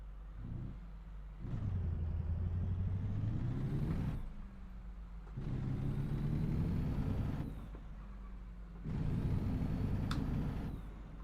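A heavy truck engine in American Truck Simulator revs up and drops back in repeated surges, with pauses between 18-speed gear changes and a steady low rumble underneath.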